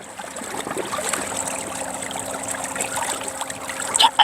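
Water swishes and trickles steadily past a moving inflatable rubber boat on Uiam Lake in Chuncheon, with a soft, continuous rushing close by.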